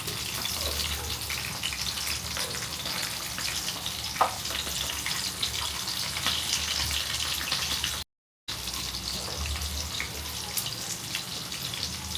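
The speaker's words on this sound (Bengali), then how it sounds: "প্রথমে ঢাকা দিয়ে অল্প আছে 1 মিনিট ভালো করে ভেজে নেওয়ার পরে এগুলোকে আস্তে আস্তে আমি উল্টে দিচ্ছি" Chilli chicken pieces fry in a pan over a low flame, giving a steady, close sizzle and hiss that runs unbroken throughout apart from one brief gap, with no talking.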